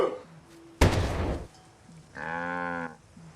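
A cow in a field lets out one clear, drawn-out moo near the end, just after a sharp thump and a burst of rustling noise.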